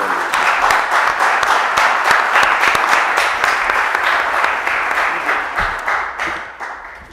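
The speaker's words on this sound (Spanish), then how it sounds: "Pido un aplauso para" A crowd at a forum session on pension reform applauds steadily with dense clapping for several seconds, gradually tapering off at the end.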